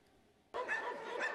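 Dogs at an animal shelter in Hostomel bark suddenly after a quiet moment, then keep up a loud, close burst of barking and yelping.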